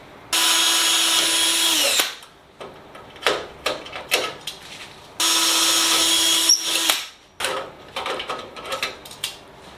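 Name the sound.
power drill drilling pilot holes in Sonex aircraft fuselage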